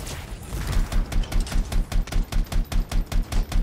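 Rapid gunfire pounds a boss in the Anthem video game, a steady fast run of loud, evenly spaced shots that keeps going without a break.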